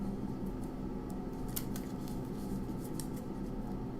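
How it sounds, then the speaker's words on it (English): Deck of playing cards being shuffled during a tabletop game of Vs System, giving a steady riffling, crackly rustle with sharper flicks near the middle, close and continuous. "I've just started shuffling my deck."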